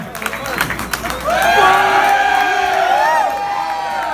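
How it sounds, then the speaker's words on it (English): Rock concert audience after a band's first live performance of a song, starting with scattered claps, then swelling into a loud, sustained wave of cheering and high whoops that holds steady before easing slightly. "Did you just beg the audience for another round of applause?"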